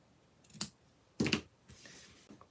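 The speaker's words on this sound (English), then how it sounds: "So I'm just going to go ahead and trim it up." Scissors trimming ribbon on a handmade paper-craft tree decoration, two or three crisp snips with a pause between them, close and fairly quiet, with no talking.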